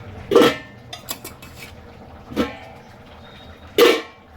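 Cooking pots and dishes clatter in a home kitchen in three sharp, separate knocks, with lighter scrapes between them, close and fairly loud against a quiet background.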